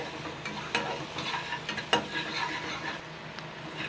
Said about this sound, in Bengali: আর দিচ্ছি এখানে গোলমরিচের গুঁড়ো দিয়ে আমি জাস্ট এটাও আমি 1 থেকে 2 মিনিট নাড়াচাড়া করে নেব।